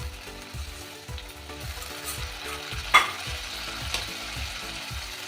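Spice-rinse water hitting sizzling cabbage and rice in a pan, giving a steady close frying hiss with rhythmic stirring scrapes and one sharp clink of a utensil.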